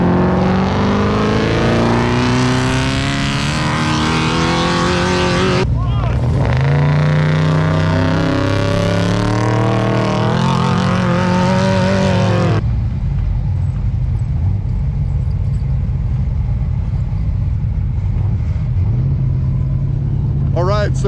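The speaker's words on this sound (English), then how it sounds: "It'll be that four-wheel drive, so it'll take off spinning all four tires." An Ultra 4 four-wheel-drive off-road race car at desert racing (VORRA Yerington 300) revs hard with rising engine pitch, then the roar cuts off abruptly, leaving a quieter rumble and background noise.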